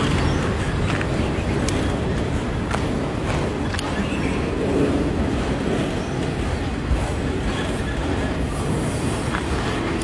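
CN X276 northbound freight train in New Haven, Michigan, rolls past with a continuous heavy rumble and rattle of railcars, steady and fairly close, a few sharp clanks poking through the broadband roar.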